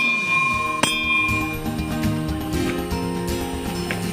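A metal temple bell rings inside a small Hindu temple, a sharp struck clang with long ringing overtones, followed by several softer strikes of bells decaying over each other.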